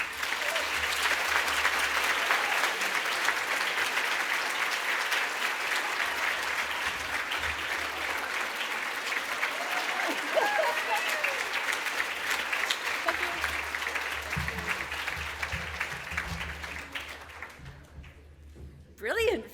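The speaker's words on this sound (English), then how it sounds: "Brilliant photo while they're clapping you." Audience applause at a women-in-conservation breakfast event, sustained dense clapping from a room full of people that holds steady for most of the clip, then fades out near the end.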